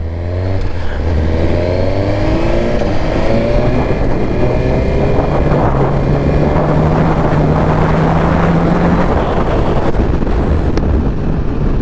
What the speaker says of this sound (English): That's a quick shifter.